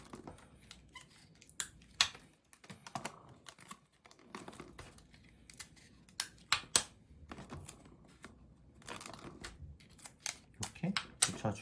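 Tape being stuck onto paper while assembling a homemade string phone in a classroom science lesson, with sharp crackly rips and taps in irregular bursts, faint and close under a speaking voice.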